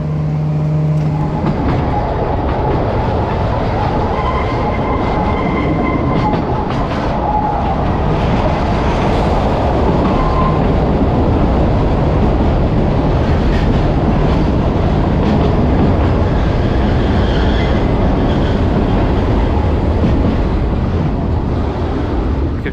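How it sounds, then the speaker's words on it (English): A train hauled by a Romanian-built locomotive on a Serbian mountain railway rumbles loudly and steadily, its wheels and cars clattering close by with no talk over it. "Here is our train, beautiful Romanian locomotive."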